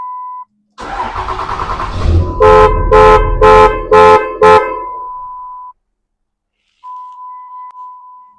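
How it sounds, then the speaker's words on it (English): A Dodge truck horn blares in five short, loud honks in a steady rhythm over engine noise, then a long tone trails off. "Ignore the honking."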